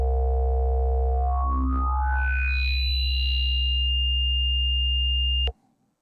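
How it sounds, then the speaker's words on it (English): Sequential Pro 3 synthesizer playing its 'primes' wavetable: bright FM sine tones stepping upward in pitch, then a sustained glassy, high ring-modulated tone held for several seconds over a deep steady low drone before cutting off abruptly. "that one has some hearty FM sine type tones, very high pitched ring moddy type sounds and glassy sounds in there"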